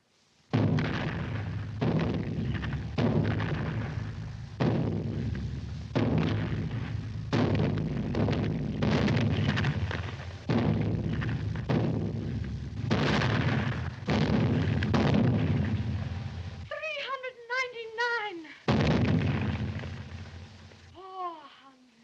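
Cannon fire for a celebratory salute booms in a long, regular series of heavy blasts, each followed by rumbling decay, briefly interrupted by a high warbling whistle-like sound before the firing resumes.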